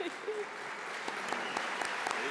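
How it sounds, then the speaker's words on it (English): Applause fills the room at an affordable housing symposium, a steady, moderately loud patter of many hands with distinct sharper claps, and a voice briefly sounds near the start. "please, keep the applause rolling"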